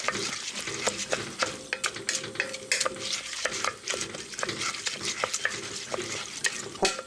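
Glutinous rice mixed with grains stir-fried in a pot for abalone porridge: continuous close sizzling with repeated scraping and clacking strokes of a spoon or spatula against the pot, no talk.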